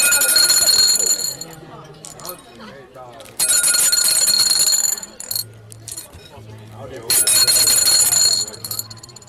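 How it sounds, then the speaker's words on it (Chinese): Telephone ringing in loud, bright bursts of electronic trilling that come in three long stretches, with people talking in the gaps between them. "这是那个电话声"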